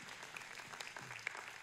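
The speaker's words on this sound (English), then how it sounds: "Now, everybody, I'm glad y'all are clapping" Church congregation clapping during a sermon, a dense steady patter of many hands at moderate distance, continuous throughout with no speech over it.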